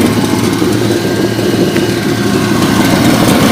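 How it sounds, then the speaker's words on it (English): A 1986 Ford Mustang GT engine idles steadily with an exhaust leak, giving a loud, continuous, rough rumble that stays close and unbroken throughout. "it needs this exhaust leak fixed, and I think the car will sound pretty good then"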